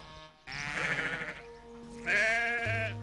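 Sheep bleat in an early-medieval English farm setting: two loud, close, wavering calls, the second followed by a lower, steadier bleat, with no voices over them.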